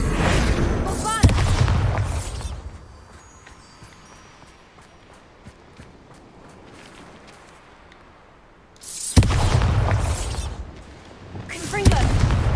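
Bombarda explosion spell in the Hogwarts Legacy video game, two heavy loud booming blasts with rumbling tails separated by a quieter stretch of low ambient noise.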